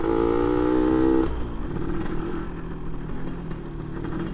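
An FJP aftermarket exhaust on a motorcycle rumbles close by at low RPM, with a brief tonal drone at first, then a rough, uneven crackling burble as the bike rolls slowly.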